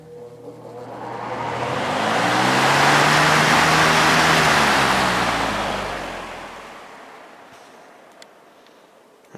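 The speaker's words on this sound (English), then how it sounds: "we'll start her up on high just so you can hear the motor" A Lakewood HV 18 fan motor runs up to high speed with a swelling, close whoosh of air and a rising hum, holds at full strength, then gradually winds down and fades.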